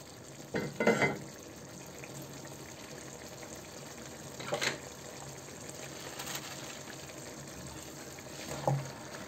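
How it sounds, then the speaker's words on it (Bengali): Washed Malabar spinach added to shrimp frying in a pan, a faint steady sizzle with a few short splashy bursts and clatters as the wet greens go in, with no talking. "আমি এবার ধুয়ে রাখা শাকটাকে দিয়ে দিব।"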